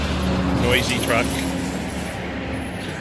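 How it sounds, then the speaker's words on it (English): A noisy truck rumbles past on a road, loud at first and then easing off, with a person talking over it. "Noisy truck."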